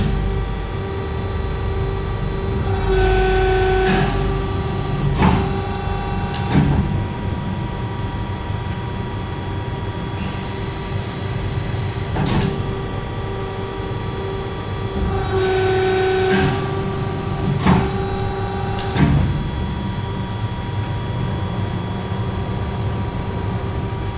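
A Krras 10-foot, 175-ton press brake runs a dry cycle with no workpiece: a steady hydraulic hum with bright whining bursts as the ram moves, plus a few sharp clicks and clunks spaced through the cycle.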